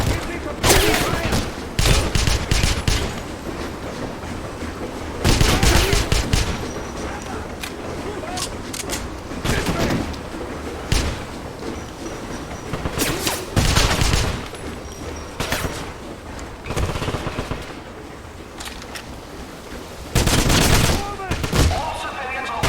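Enemy gunfire in Wolfenstein 2009 crackles in repeated loud bursts of automatic fire with sharp single shots between, close and dense, while shouted voices and combat chatter run under and between the volleys.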